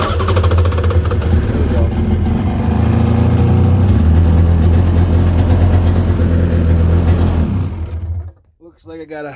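A 95XP air compressor's gas engine starts and runs loudly with a steady mid-pitched drone, while someone talks over it; the engine cuts out near the end.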